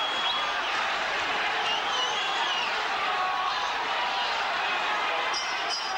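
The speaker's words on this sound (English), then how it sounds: "Listen to this crowd. Oh boy, listen to it." A packed boxing crowd at Festival Hall, Melbourne roars without a break at the close of the 13th round of a 1985 bout, a loud, dense, continuous wall of cheering and shouting.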